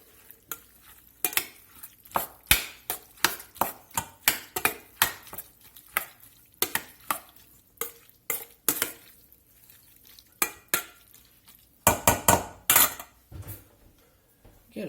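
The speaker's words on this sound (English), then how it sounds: "We're going to get some cracked black pepper in here. Get this stirred up." Spoon stirring muffuletta olive salad in a bowl while cracked black pepper is worked in, giving a steady run of close, wet clinks and scrapes in an irregular rhythm with no talk.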